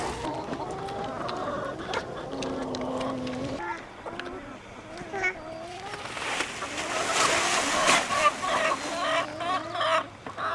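Chickens cluck and squawk in a farm pen in Bolinas, California, with overlapping calls of varied pitch throughout, close by, while people talk over them.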